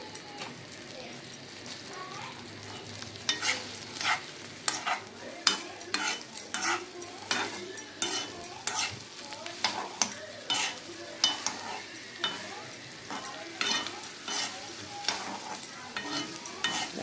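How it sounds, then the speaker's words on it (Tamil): Food frying in butter until golden for soya dum biryani, a steady close sizzle carrying repeated scraping stirs and light utensil clinks that come in irregular bursts throughout, with no talking. "பட்டரில் போட்டு நல்லா கோல்டன் கலரில் ஒரு 2 பேட்சாக போட்டு வறுத்து எடுத்துக்கலாம்."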